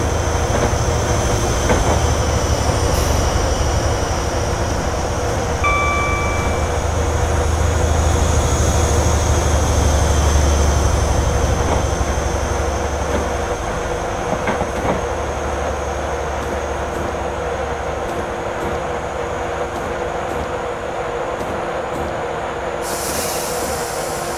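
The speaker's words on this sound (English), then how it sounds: "HST powering up over there" In a train simulator game, an HST high-speed diesel train powers up with a steady low engine drone and rail rumble over a continuous high whine, fading slightly midway.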